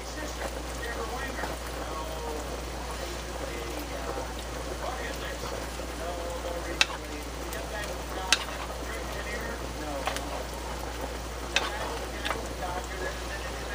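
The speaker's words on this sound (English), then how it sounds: "And we'll just kind of stir that in." Sour cream is stirred into beef stroganoff in a cast iron pan, giving a soft steady sizzle with scattered scraping and a few sharp clicks of the spoon against the iron, under a low constant hum.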